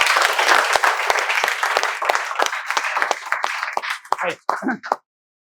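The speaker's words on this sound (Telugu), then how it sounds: "మీకు చప్పట్లతో స్వాగతాన్ని తెలియజేస్తున్నాం" Applause from a classroom audience at a spoken English institute, a dense burst of many hands clapping that thins into scattered, separate claps before stopping abruptly.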